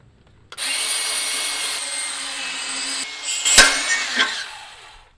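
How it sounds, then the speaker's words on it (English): A power saw cuts through a car exhaust pipe with a loud, steady, close whine for several seconds, then its pitch shifts and strains in a few surges before the cut finishes and the sound drops away. "So let me get a saw and I'm gonna cut this."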